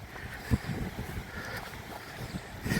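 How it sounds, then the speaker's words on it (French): Gusty wind buffets the microphone in low rumbling bursts on a coastal walking route between Fisterra and Muxía, steady and close for a few seconds with no talk. "il y a quand même pas mal de vent"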